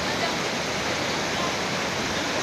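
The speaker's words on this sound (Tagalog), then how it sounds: "Guys, ang ganda ng falls." Infanta Falls pouring down, a steady dense rush of falling water, loud and close, unbroken throughout.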